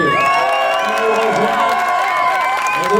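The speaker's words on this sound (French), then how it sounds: "Applaudissements pour Chloé Collier." A crowd at a youth bouldering competition in L'Argentière claps and cheers steadily for a climber, whoops and shouts rising over sustained applause throughout.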